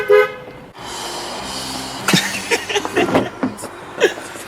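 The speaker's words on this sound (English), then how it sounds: "Give them a toot." A single short, loud toot of a car horn from close by, followed by steady engine and road noise with chuckles and brief voices.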